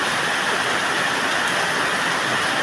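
Steady rainfall hisses continuously at a moderate, even level throughout, with no voices or other distinct sounds on top.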